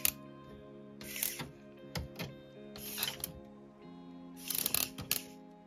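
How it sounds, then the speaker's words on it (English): LEGO EV3 motor driving plastic gears through a skipping chain, a steady motor whine broken by bursts of rattling clicks and snaps repeating about every second, close and fairly quiet. "Currently, the chain is skipping a little bit"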